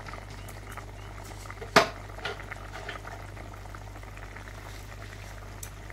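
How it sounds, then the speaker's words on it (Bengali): Prawn malaikari curry simmering in a pot as the gravy reduces, a soft steady bubbling hiss with one sharp clink near the middle and no voices. "আর একটু ঝোল কমাতে হবে।"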